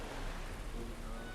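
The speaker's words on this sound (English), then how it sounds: "It's raining" Steady rain falls in the video game Metaphor: ReFantazio, a soft, even hiss of rainfall heard alone at low volume throughout.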